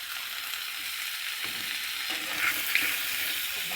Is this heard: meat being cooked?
yes